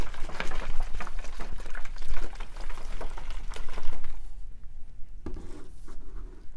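Masterblend hydroponic fertilizer solution being mixed in a jug makes a continuous, close liquid sloshing and churning that eases off toward the end, with no voices.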